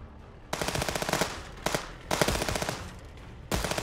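Enemy automatic gunfire in the video game Contraband Police: three loud bursts of rapid shots, each lasting about a second, with short gaps between them and no talking.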